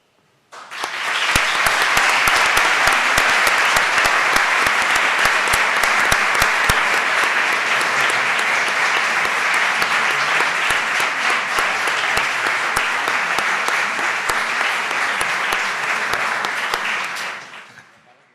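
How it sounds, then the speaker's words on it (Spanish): Audience at an academic lecture breaks into sustained applause, dense crisp clapping starting abruptly and holding steady for about sixteen seconds before stopping cleanly. "pido a todos ustedes un aplauso para José Miguel Merino"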